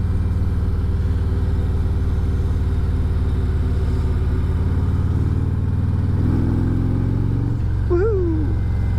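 A motorcycle rides through bends on a fall road, its engine droning loud and steady with a continuous rumble, then a brief whooping voice rises over the engine near the end.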